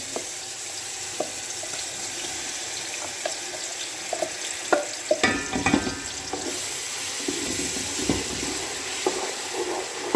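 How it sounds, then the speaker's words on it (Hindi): Chopped masala paste fries in a hot pan for Saraiki kadhi pakora, giving a steady close sizzle with scattered clicks and scraping stirs. "अब हम अपने इस मसाले को बहुत अच्छे तरीके से भून लेंगे।"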